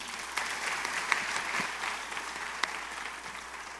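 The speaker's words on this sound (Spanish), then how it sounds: "un aplauso para Carmen." A women's church gathering applauds for Carmen, a soft, moderately distant patter of clapping with a few sharper individual claps standing out, steady for several seconds.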